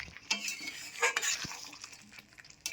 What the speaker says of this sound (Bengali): এবার আলুগুলো ভালো করে মশলার সাথে মিশিয়ে নেব।